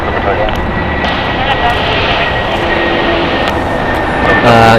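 An Airbus A320neo roars down runway 25 right at a large international airport on takeoff, a loud, sustained engine rush that swells slightly toward the end.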